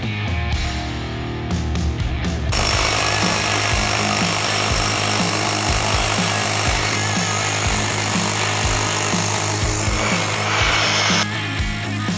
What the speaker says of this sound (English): let's get our mask on again and start chipping some concrete.